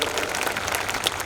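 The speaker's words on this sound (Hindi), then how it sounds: "तो एक बार तालियां बजा दीजिए तो मैं शुरू हो जाऊँ।" Students at a kavi sammelan, a Hindi poetry recital, clap for a comic poet, giving a brief, steady wash of applause from a crowd with some faint voices.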